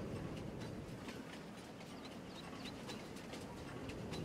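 A train moves in the farming video game Farming Simulator 22, giving a faint, steady rumble with light rhythmic rail clatter and no talking.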